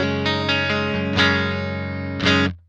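Electric guitar on the neck pickup through a Tallon Electric Dual Drive pedal set clean, strumming a few full, sustained chords that ring together before the last one is cut off, with no talking.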